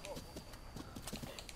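Hooves clip-clop in a quick, steady rhythm as a fast horse gallops in the video game The Legend of Zelda: Breath of the Wild on Wii U, a fairly faint sound under other game noise.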